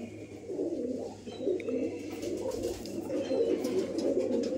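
A Rampuri pigeon coos softly and repeatedly, low rolling calls close by, with faint chirps from other birds in the background.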